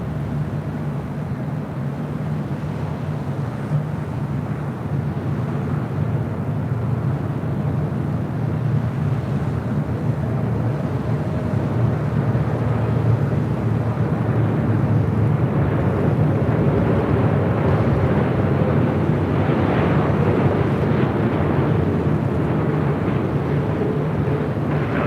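An airliner roars steadily down runway 25 right at LAX on takeoff, a loud, continuous low rumble of jet engines that swells slightly midway and holds without pause.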